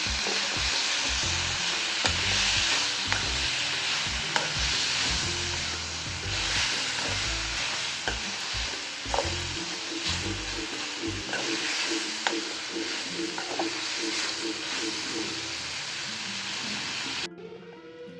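Chopped banana flower with a small piece of tamarind sizzles and crackles steadily in a hot pan, with occasional stirring scrapes through a long, loud, continuous fry that cuts off abruptly at the end.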